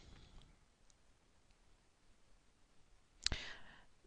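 A computer mouse clicks once on a domain-search website, a single sharp, close click standing out after several seconds of near silence with faint tiny ticks.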